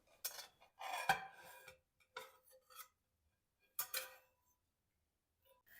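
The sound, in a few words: cutting food into portions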